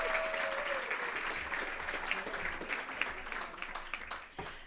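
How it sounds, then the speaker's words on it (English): An audience at an awards celebration applauds steadily, with sharp individual claps standing out over a continuous wash of clapping that tapers slightly near the end. "Please, a round of applause for my Rosana."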